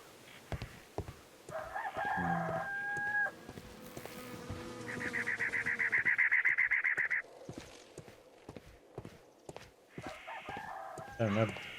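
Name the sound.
rooster crowing in Sherlock Holmes video game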